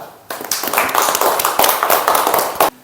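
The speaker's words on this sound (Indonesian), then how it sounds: "Kita beri aplaus dulu untuk Najwa." A short burst of applause from a classroom audience for a student who has just presented, steady clapping from many hands, loud and close, ending abruptly.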